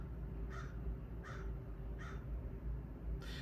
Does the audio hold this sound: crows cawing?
yes